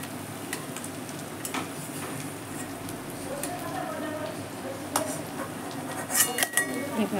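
Fried chhana koftas being lifted out of a pan of oil, with a soft background sizzle and light metallic scrapes and clinks of a utensil against the pan, some sharper taps toward the end.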